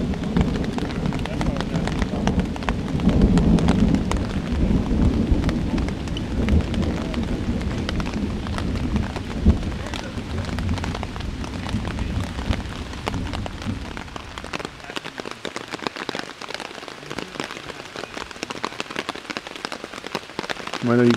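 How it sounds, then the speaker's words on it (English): Steady, heavy rain pours down at Rainbow Lakes Wilderness with a dense, hissing roar, louder at first and easing slightly toward the end. "It's raining hard."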